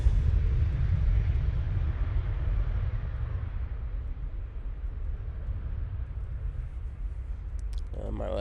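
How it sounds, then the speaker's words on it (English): A Ryanair airliner on its takeoff roll at Manchester Airport, a steady low roar of jet engines heard from a distance, holding level throughout with a faint clatter at the very end. "Ryanair on the roll."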